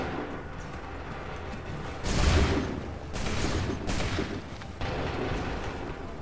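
Musket volleys crash out in Assassin's Creed III at Lexington and Concord, a loud massed fusillade breaking in after a quiet stretch, then two more heavy volleys rolling one after another with long reverberant tails.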